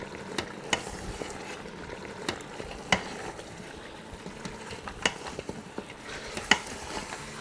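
Mutton with spices is stirred and sautéed in an Instant Pot: a soft background sizzle carries sharp, irregular scraping and clinking strokes from the spoon against the pot, fairly quiet and close.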